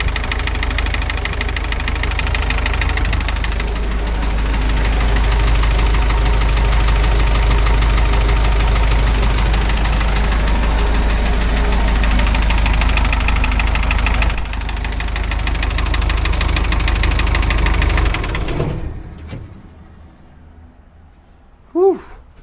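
Sprite car engine idling while warming up after an exhaust-to-coolant leak repair, a steady close low idle for about eighteen seconds before it cuts off into near silence with a short final noise.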